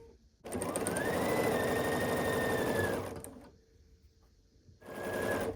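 A sewing machine stitches across green and white quilt strip pieces for a Churn Dash block, running steadily for about two and a half seconds, pausing briefly, then starting a second short burst, close and alone.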